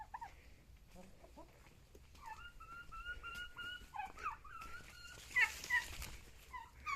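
Turkeys walking with a farmer alongside chickens produce a string of clear repeated calls that grow louder toward the end, over a low rustle of background noise.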